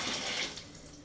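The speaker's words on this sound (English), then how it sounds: "I'll fill the can with it, pretty much to the top, and the rest I will pour in here" Heated water is poured from a kettle into the open can of a home beer-brewing kit, a steady close splashing gush that fades slightly as the pour continues.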